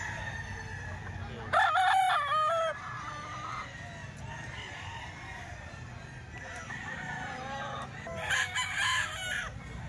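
Chickens and roosters at a market, with loud roosters crowing twice, one call early and another near the end, over constant clucking and a busy crowd murmur.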